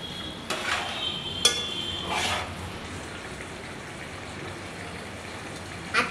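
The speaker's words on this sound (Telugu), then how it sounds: "కాసింత గరం మసాలా వేసుకున్నాం. ఇప్పుడైతే మిక్స్ చేసుకుందాం." Spoon stirring garam masala into a curry in a pan: soft scraping and clinks of utensil on metal over a quiet, steady sizzle, with a few sharper taps early on.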